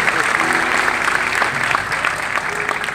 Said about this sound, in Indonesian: mau tepuk tangan sekali lagi juga buat Tuhan